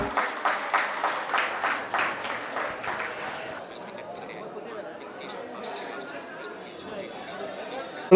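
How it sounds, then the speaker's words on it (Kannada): An audience at a Kannada literary anniversary closing ceremony gives a short burst of rhythmic clapping as guests are called to the stage, fading into murmuring crowd chatter and faint voices. "ಚಪ್ಪಾಳೆಯೊಂದಿಗೆ ಅವ್ರನ್ನ ವೇದಿಕೆ ಮೇಲೆ ಕರ್ಕೊಳ್ಳೋಣ"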